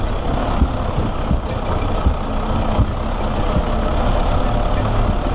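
A 4x4 vehicle on Hankook tyres crawls slowly downhill on a rough off-road track, with a steady low engine rumble and rolling road noise that continue for the whole stretch. No one speaks.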